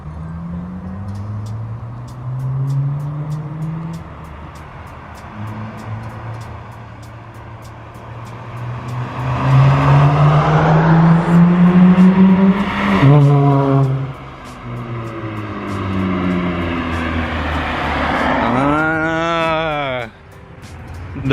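A car with a modified aftermarket exhaust arrives and drives up, its loud engine note rising and falling through several revs and gear changes, growing closer and louder before a final sharp rev, with voices talking over it.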